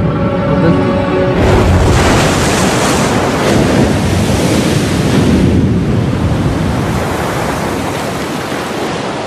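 Sea waves breaking on the shore, a loud continuous surf wash with wind noise, starting after a brief quieter tonal moment and carrying on with no talk.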